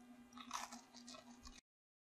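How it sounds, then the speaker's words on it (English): Crunchy chocolate chip cookies are bitten and chewed close up, giving a short, quiet burst of crisp crunching that cuts off abruptly into silence. "As you can hear, these are very crunchy."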